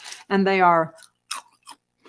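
Crunchy kale chips being bitten and chewed, a few short crisp crunches spaced out right after a brief spoken phrase.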